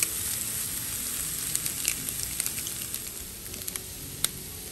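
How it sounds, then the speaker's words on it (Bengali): Egg frying in a pan together with mashed green banana bhorta, giving a steady soft sizzle with scattered small crackles and pops, close and moderately quiet, with no talking. "ডিম দিয়ে খুব একটা বেশি ভাজতে হবে না"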